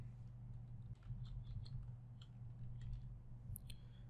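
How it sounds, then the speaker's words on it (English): Soft, irregular clicks of a computer keyboard being typed on come in quick scattered bursts over a low background hum, faint and close, with no one speaking. "In the search box, this time I type t-shirt design."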